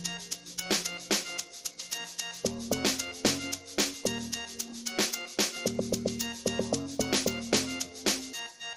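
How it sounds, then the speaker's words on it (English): Amapiano log drum pattern programmed in FL Studio Mobile, deep pitched bass hits bouncing in a syncopated groove over crisp percussion and shakers, loud and steady throughout. "with that log drum, they are starting to hit hard"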